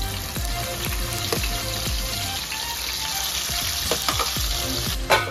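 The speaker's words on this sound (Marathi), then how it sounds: "तीन चार चमचे तेल टाकायचं, टाकून आता एक वांगी असं टाकूया" Eggplant frying in three or four spoonfuls of hot oil, a dense crackling sizzle close by, broken by repeated dull knocks and clicks of a utensil in the pan.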